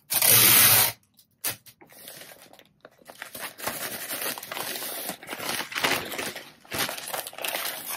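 Packing tape pulled off the roll and pressed onto a poly mailer, a loud burst of screeching tape followed by intermittent crinkling and rubbing of recycled packing paper and plastic, close and alone.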